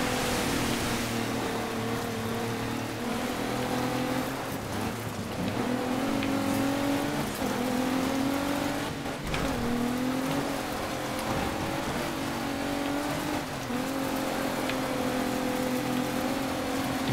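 A car drives around a dirt track in DiRT 3, its engine droning steadily with shifting revs and a rough, gravelly road noise throughout, with no talking.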